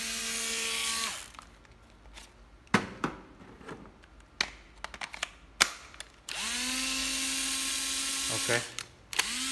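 A Japanese-made cordless drill spins up near the start and again later, with short clicks, knocks and handling noises in between and a person talking briefly.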